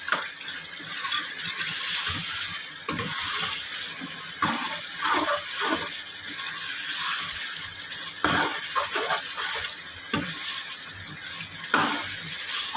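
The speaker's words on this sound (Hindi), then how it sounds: "अच्छे से मैं भून रही हूँ। और यहाँ पे मैंने आंच जो है बहुत स्लो नहीं रखी, मीडियम टू हाई है।" Masala paste sautéing in a pan on medium-high heat, a steady hiss of sizzling oil broken by repeated scraping stirs, close up and with no one talking.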